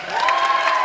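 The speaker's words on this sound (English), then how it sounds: "how about another round of applause for Paul there?" A concert audience breaks into applause and cheering, a short, loud, dense wash of clapping and shouts.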